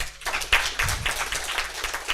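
Brief scattered clapping from an audience at a finance and banking event in Uganda, greeting the President, with a few sharp claps over a murmuring room.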